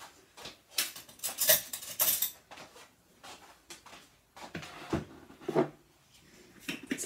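Metal teaspoon clinking and rattling in a home kitchen, light scattered clatters and knocks against dishes and a drawer, fairly close and quiet.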